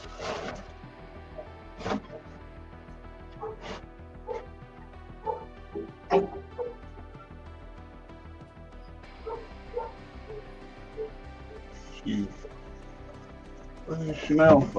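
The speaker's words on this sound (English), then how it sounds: "She don't sound like a puppy barking anymore." Maisie, a nine- or ten-month-old dog, barks in short, separate woofs and yips spread across the stretch, some sharper and louder than others, over a low steady background hum.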